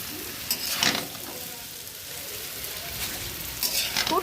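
Noodles sizzle and fry in a hot pan, with a steady crackling hiss and a few louder bursts as they are stirred and tossed, close and continuous without talk.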